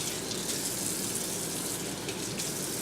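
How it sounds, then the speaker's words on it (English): Warm water runs steadily from a tap into a sink, a dense, even gushing hiss that stays constant throughout with no voices. "I'm going to turn the water to warm"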